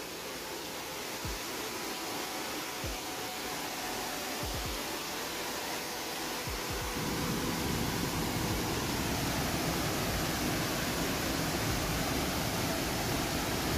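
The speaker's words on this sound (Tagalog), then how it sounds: "Meron siyang falls na maliit." A small waterfall at St. Anthony Falls, a steady broadband rush of falling water that grows a little fuller about halfway through, with a few low bumps early on and no talk.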